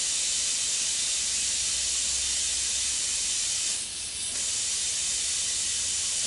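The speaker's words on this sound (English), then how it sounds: "I'm just going to paint these on the rims" Tire rims being spray painted: a continuous loud hiss of the spray can runs throughout, with a brief shift in tone near the middle, and no talking.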